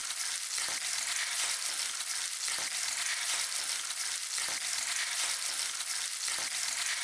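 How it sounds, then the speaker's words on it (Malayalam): Pieces of mackerel sizzle steadily in hot coconut oil over a medium-high flame, a dense, continuous frying hiss with faint crackles, close and fairly loud, with no voices. "എണ്ണ ചൂടായി വന്നാൽ മീൻ കഷ്ണങ്ങൾ അതിലേക്ക് ഇട്ട് കൊടുക്കുക."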